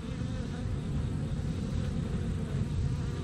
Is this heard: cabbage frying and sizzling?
no